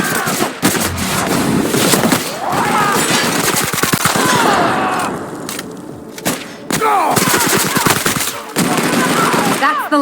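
Loud, dense bursts of rapid automatic gunfire in The Outer Worlds video game, thumps and booms mixed in, running nearly continuously with brief gaps, with voices shouting over the shooting.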